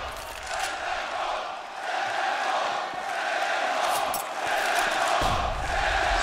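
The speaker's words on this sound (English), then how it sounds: "The crowd is ready." A large esports arena crowd roars and cheers continuously during a Counter-Strike match on the Inferno map, a dense, loud wall of voices with swelling shouts and no pauses.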